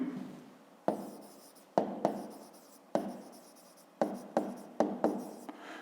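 Pen strokes on paper while a fifth-grade math exercise is worked out by hand, in several separate bursts of scratchy writing with short pauses between them. The writing is close and clear, with no talking.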